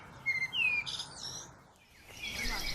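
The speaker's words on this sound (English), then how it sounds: "We have many words in English for the sounds birds make." Several small birds chirp and tweet in quick, high, bright calls over a soft outdoor background, with a burst of trills early on and quieter twittering toward the end.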